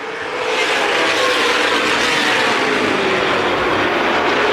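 Late model sportsman race cars at speed on Winchester Speedway during a championship race, a loud continuous engine roar that swells in over the first half-second and then holds steady and close.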